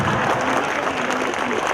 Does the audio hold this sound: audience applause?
yes